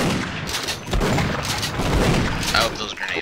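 Rapid gunfire and explosive bursts in the co-op shooter game Sven Co-op, dense overlapping shots and booms throughout, with voices shouting over the chaos.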